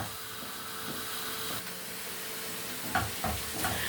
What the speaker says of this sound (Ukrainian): помішуйте цибульку, щоб вона так рівномірно просмажувалася